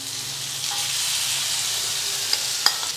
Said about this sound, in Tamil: மசாலாலாம் போட்டு கலந்து வச்சுருந்த இந்த பன்னீர் துண்டுகளை இதில் போட்டு ஃப்ரை பண்ணிக்கலாம்